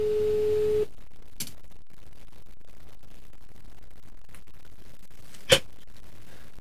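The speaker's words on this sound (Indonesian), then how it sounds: "sekarang kita mau telepon ke korbannya dulu" A phone call being placed gives a single steady tone for under a second, then near silence broken by a faint click and one sharp tap.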